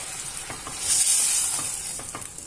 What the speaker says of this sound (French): maintenant, on va rajouter notre petit verre d'eau